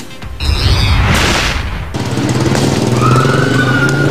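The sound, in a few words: explosions at burning New Divisoria Mall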